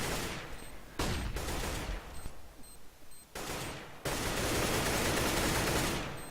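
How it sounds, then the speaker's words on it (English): Bursts of automatic gunfire crackle during a competitive Counter-Strike match, and loud sustained volleys are broken by brief gaps and quieter stretches. "And they're firing in all different directions."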